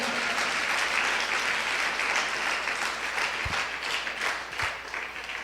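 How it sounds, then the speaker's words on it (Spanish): Strong applause from a church congregation during a sermon, a continuous wash of many hands clapping at a moderate distance that holds steady throughout. "¿Cuántos dan ese fuerte aplauso?"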